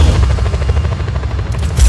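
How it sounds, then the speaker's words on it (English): Helicopter in the video game Just Cause 4, a loud continuous rotor thrum with rapid rhythmic chopping and low rumble throughout, with gunfire-like crackle mixed in. "Helicopter inbound."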